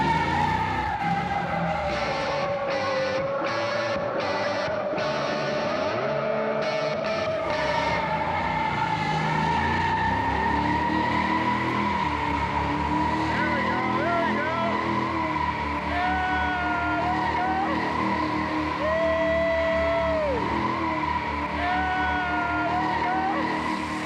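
A Hemi-swapped Gremlin lays down a smoky burnout in third gear, its engine holding a loud, steady roar with tire noise layered on top and a few shifting squeals, continuous and close for the whole stretch.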